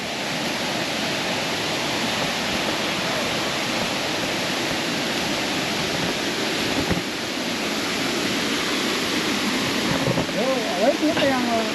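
Ariharanathi waterfall near Tenkasi pours in a steady, loud broadband rush of falling water that fills the whole scene without a break, with voices faintly audible beneath the roar.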